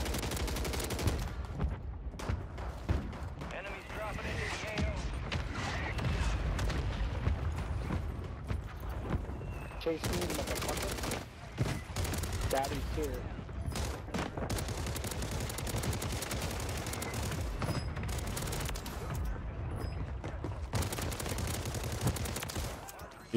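Close-range MCW rifle gunfire in a fast-paced video game, heard as dense, sustained bursts of rapid shots that run almost continuously, loud and near, with brief gaps between volleys and no talk.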